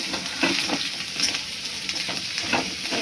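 A wild leafy vegetable sizzles and fries steadily in a pan right after being added, with soft stirring scrapes and bright crackling that stays close and loud throughout.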